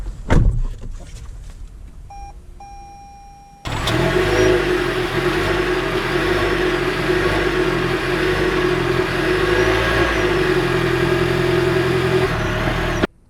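A 2020 Toyota RAV4 Limited Hybrid starts moving off, a steady mid-pitched engine and road hum rising abruptly after a few seconds of quiet cabin clicks and beeps, then holding constant.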